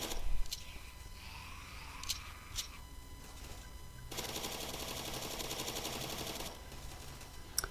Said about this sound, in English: I wanted to see the damage of the gun by itself in killing zombies